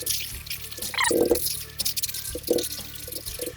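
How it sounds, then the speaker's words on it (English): Melted butter poured over crushed Oreos for a Dr Pepper ice cream cake, a soft wet trickle with a few dripping splashes at close range, no voices. "We pour our little butter into this old,"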